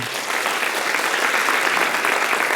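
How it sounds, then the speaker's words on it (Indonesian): Steady applause from a church congregation, dense and sustained throughout, with no voices standing out. "Jadi saya appreciate Berta, Edi, puji Tuhan, berikan tepuk tangan."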